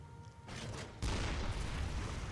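Cannon weapon fired in the Bloodborne video game, giving two heavy booming blasts about half a second apart, each leaving a loud, sustained rumbling roar.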